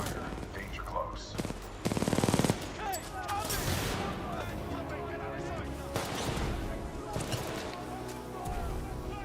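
Bursts of heavy supporting gunfire from a Titan in Titanfall 2, with loud, rapid clusters of shots and booming impacts interrupted by quieter stretches and talk throughout.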